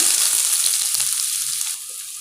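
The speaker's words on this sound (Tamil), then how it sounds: "வெங்காயத்தை நல்லா வதக்கிக்கோங்க" Onions sauté in hot oil with mustard seeds in a pan, a close, bright sizzle with a few soft stirring knocks, easing slightly toward the end of the brief moment.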